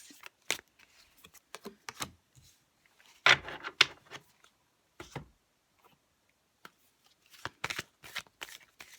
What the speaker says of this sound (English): I'm going to pull 3 cards, different oracle packs.